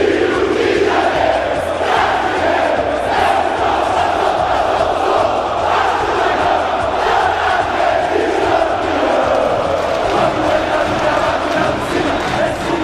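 Vasco da Gama supporters sing a samba-enredo chant, a dense crowd of voices roaring together in a continuous, loud stadium chorus.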